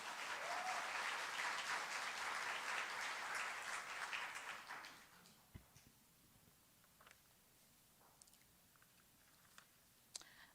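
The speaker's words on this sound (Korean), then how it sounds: "큰 박수로 격려하겠습니다." A church congregation breaks into dense, loud applause for about five seconds, then it fades to a quiet room with only a few scattered claps and small knocks.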